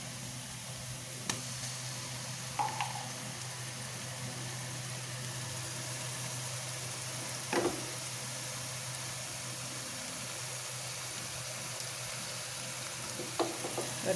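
Onions with ginger garlic paste fry in a pan for a fish head curry, a constant close hiss of sizzling broken by a few faint clinks of stirring.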